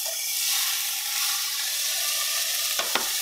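Onions and fresh garden peppers sauté in a pan ahead of browning beef for hash, giving a continuous soft sizzle with a couple of sharp utensil taps near the end.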